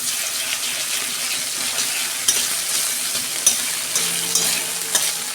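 Chopped onion and grated ginger fry in a hot pan with asafoetida, giving a steady close sizzle. A few sharp clicks and scrapes of stirring come through near the middle and end.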